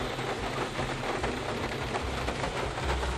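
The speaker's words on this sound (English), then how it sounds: "It's raining, it's pouring." Heavy rain falls in Florida as a dense, continuous close hiss of drops on surfaces, with a low rumble underneath and no voices.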